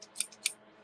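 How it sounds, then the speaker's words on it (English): Two quick, crisp snips of thrifted pinking shears cutting through paper, close and quiet, with a faint lighter click between them in an otherwise still room. "you're not supposed to use pinking shears for paper"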